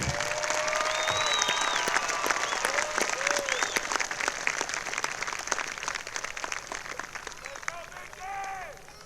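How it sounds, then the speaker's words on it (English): A spring commencement ceremony audience applauds associate degree students and other graduates, a broad wash of clapping with scattered cheers and crowd voices underneath, fading slightly toward the end. "Please join me in a round of applause for our associate degree students and all of our graduates receiving a degree this evening."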